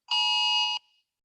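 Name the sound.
Amber Alert emergency alert tone on a phone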